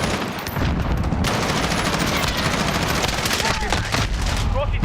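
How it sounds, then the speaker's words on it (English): Rapid bursts of automatic gunfire from a multiplayer video game shooter firefight, dense and continuous, with game effects and a voice over it. "I'm literally shooting at him, bruh."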